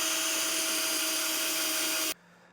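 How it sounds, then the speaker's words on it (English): A power drill with a sharp 1/2-inch bit boring holes in a Blue Ox base plate on a 2022 Jeep Grand Cherokee, a loud steady whine that runs continuously and then abruptly stops. "go ahead with a nice sharp 1/2-inch drill bit and get this all drilled out"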